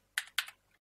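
Two quick keystrokes on a computer keyboard, sharp close clicks a fraction of a second apart, followed by a faint trailing tap and then silence.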